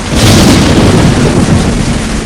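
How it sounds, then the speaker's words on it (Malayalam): A loud, dense roar of heavy rain and wind with a deep rumble of thunder, steady and close throughout. "മഴയും കാറ്റും ഇടിയും വന്നു"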